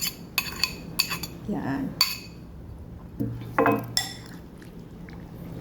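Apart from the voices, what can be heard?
stirring the beef tapa marinade in a bowl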